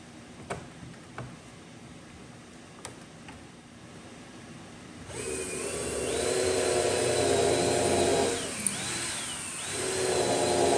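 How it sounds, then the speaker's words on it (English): A few quiet clicks and taps, then a power drill whirs on close by and runs steadily on an old wooden back bar, its pitch dipping briefly as it bites. "I'm gonna put it low so I can get my"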